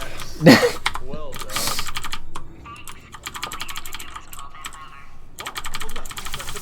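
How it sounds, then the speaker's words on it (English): Rapid keyboard button mashing during a Portal 2 speedrun, a dense clatter of keystrokes running through most of the stretch, close and fairly loud, with a few louder bursts and some background game sounds. "a lot of keyboard noises come from Chapter 8 because you just do that all day long"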